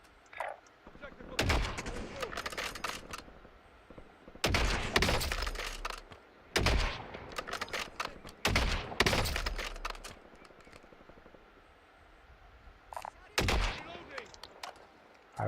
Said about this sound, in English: I don't see the person shooting.